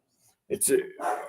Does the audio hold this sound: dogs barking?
yes